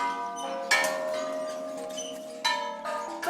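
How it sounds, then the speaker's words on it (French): Small bells hanging above pagoda-style tombs in Thailand ring in the wind, a few bright strikes with long shimmering overlapping decays, close and clear with no voices. "il y a des petites cloches au-dessus, des tombes, des pagodes"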